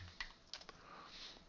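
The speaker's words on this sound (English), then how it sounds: "If I can type here" Short burst of typing on a computer keyboard, a few quick separate clicks followed by a soft, steady patter of keys, close and quiet with no talk.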